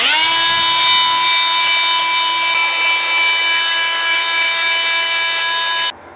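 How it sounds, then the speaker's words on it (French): A multi-tool sands a mineral surface, giving a loud, steady buzzing drone with a strong tonal whine that holds evenly throughout, then stops abruptly just before the end. "on va voir cet outil là qui permet de poncer des surfaces minérales"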